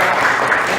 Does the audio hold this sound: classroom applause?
yes